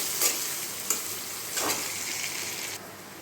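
Peanuts and potatoes frying together in a pan for poha, with a continuous close sizzle and a few soft scraping stirs, and no voices.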